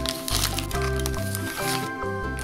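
Close crinkling and squishing of a small plastic packet handled by hand, a series of short crackles over a faint tonal background.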